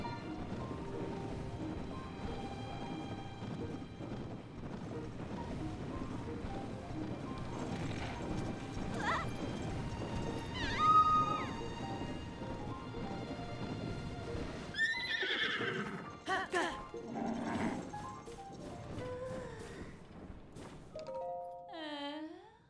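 A horse in Zelda: Tears of the Kingdom clip-clops steadily for a long stretch, then gives several loud whinnies near the end, all over the game's background music.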